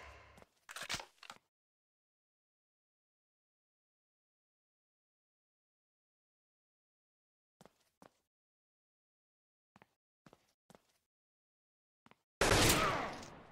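Stage gun shots ring out as sharp isolated cracks, a burst near the start, a few scattered single reports in the middle and a loud dense blast at the end, separated by long silence.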